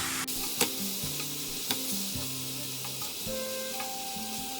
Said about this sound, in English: Leave the vegetables to cook and braise for about 5 to 8 minutes.